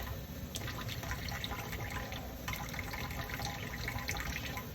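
Running water pours steadily over a setting plaster cast as it is rinsed and cleaned, a continuous close splashing hiss with faint drips and no talk.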